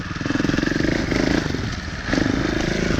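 A 2018 Beta Evo Factory 300 4T trials motorcycle chugs over a log, its four-stroke engine thumping in close, uneven pulses with a brief dip and renewed throttle, alone without talk.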